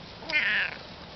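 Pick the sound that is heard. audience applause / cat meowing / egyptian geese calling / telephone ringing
cat meowing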